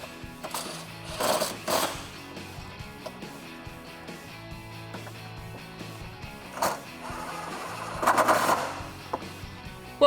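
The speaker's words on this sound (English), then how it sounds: "Once they're all threaded, we can grab our impact wrench and tighten those up." An impact wrench tightens bolts on a cold air intake fitted to a 2016-2021 Toyota Tacoma 3.5L V6. Several short, rattling bursts come at uneven intervals between quieter handling noises nearby.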